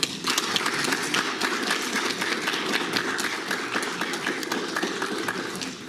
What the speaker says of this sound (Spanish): Y lo recibimos con un fuerte aplauso, doctor.